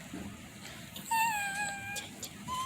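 A voice imitates a cat's meow for a child learning animal sounds: one drawn-out, wavering meow rising then falling, moderately loud over soft background hiss.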